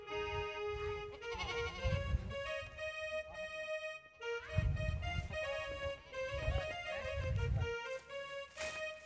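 Goats bleating repeatedly while being fed in a rural village setting, several wavering cries with harmonic tones over rustling and shuffling sounds, fairly close and moderately loud.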